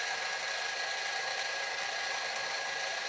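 A milling machine cuts a part for a 3D printed collet, giving a continuous loud high-pitched whine and hiss, steady and close throughout with no talk.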